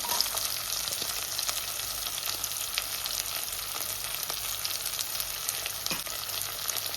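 Fish curry ingredients, green chillies among them, fry in hot oil over medium heat, giving a dense, even sizzle and crackle throughout. Occasional soft stirring taps sound close by, with no voices.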